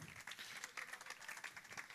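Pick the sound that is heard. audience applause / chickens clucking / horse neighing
audience applause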